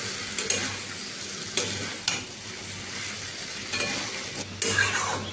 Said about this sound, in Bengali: সব দিয়ে এইভাবে একসঙ্গে বেশ ভালোভাবে আমি কষিয়ে নিলাম